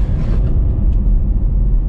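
Steady low rumble of road and engine noise inside a moving car, constant and fairly loud throughout with no talking.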